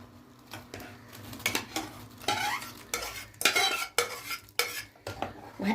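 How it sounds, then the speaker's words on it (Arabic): Spoon stirring rice, milk, sugar and pasteurized cream together in a pot, with repeated scraping and clinking strokes against the metal in an irregular rhythm, close and fairly loud, no talking. "وهقلب بقى كل المكونات دي مع بعضها."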